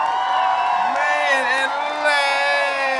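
Crowd cheering and whooping at a live gathering, sustained and loud throughout, with a voice speaking over the noise.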